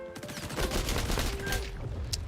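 Shotgun fire in a multiplayer shooter game, a rapid burst of several sharp, loud blasts packed closely together over about two seconds, with no talk.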